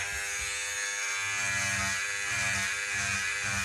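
An electric stitch eraser buzzes against embroidery stitching, a loud, steady, close motor drone with a faint pulsing rise and fall as it works.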